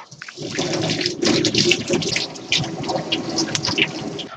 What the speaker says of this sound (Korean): 그래서 이제 이거는 깨끗하게 좀 씻어 볼게요